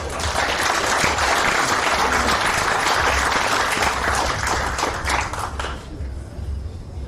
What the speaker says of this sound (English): a round of applause for Samoa Shipping Services